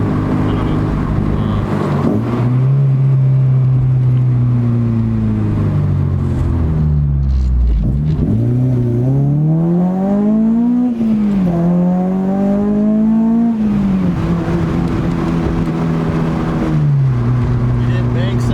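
An Acura RSX Type S with new motor mounts accelerates hard through the gears, its engine note climbing and dropping with each shift, loud and close from inside the car, with voices talking over it.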